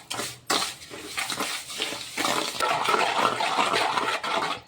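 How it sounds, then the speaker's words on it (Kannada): Clinking and scraping of a spoon stirring sugar into curd in a bowl for eggless cupcakes, a steady close run of small scrapes and taps with no talk. "ಈಗ ಇದನ್ನು ಮೊಸರಿನಾಗ ಈ ಸಕ್ಕರೆ ಪೂರ್ತಿ ಕರಗೋ ಥರ ಮಿಕ್ಸ್ ಮಾಡ್ಬೇಕು ರೀ."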